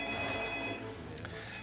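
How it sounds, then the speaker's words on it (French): A telephone rings with a steady, bright electronic tone that holds through a busy indoor background, fairly close and moderately loud, in a scene where a body is being lowered into a bathtub. "le téléphone sonne."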